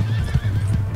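Horse whinnying in the video game Red Dead Redemption 2, a short loud neigh with wavering pitch and hoof clip-clop mixed in, heard alone and close.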